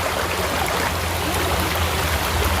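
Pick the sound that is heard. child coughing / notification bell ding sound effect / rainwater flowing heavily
rainwater flowing heavily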